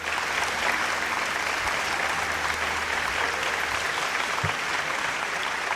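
Audience at an Urdu musical tribute concert applauds a singer's introduction, with steady, dense clapping filling the hall throughout.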